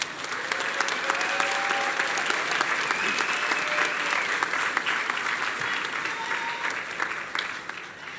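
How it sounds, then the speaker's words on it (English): Sustained applause from a graduation ceremony crowd at a college preparatory academy, a dense continuous patter of many hands from a moderate distance that holds steady, then thins slightly near the end. "let's give a quick round of applause to all of us"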